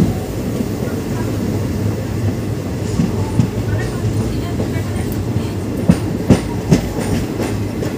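The Paharia Express from Digha toward New Jalpaiguri runs from Bagnan toward Howrah, a loud steady rumble of wheels on rails with sharp clicks and clanks near the end, heard from inside the coach.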